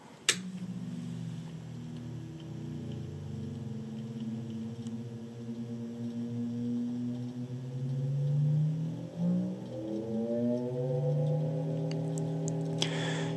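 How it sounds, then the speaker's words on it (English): An Emerson electric fan's shaded-pole motor hums steadily while running in reverse, a low tonal drone with faint ticking that wavers in pitch partway through, then settles, with a click at the start and end. "you can actually trick this fan into running in reverse"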